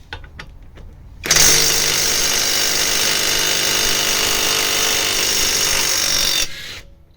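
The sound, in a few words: Makita impact wrench undoing a tight nut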